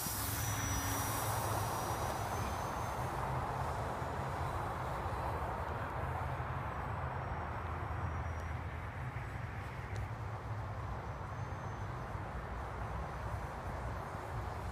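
A small E-flite Adagio 280 electric RC airplane runs up and takes off into the wind, a continuous whirring motor and propeller drone under steady outdoor wind noise, slowly fading as it moves away.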